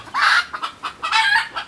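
Chickens clucking on the floor before a hurricane, in short bursts, a couple of louder squawky calls with quieter clucks between, fairly close with no talking.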